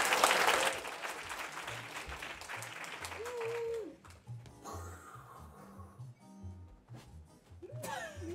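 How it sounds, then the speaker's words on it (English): An improv comedy audience claps to welcome a performer back onstage, loud applause at first that thins into scattered clapping, with voices talking over the fading claps. "please clap them in"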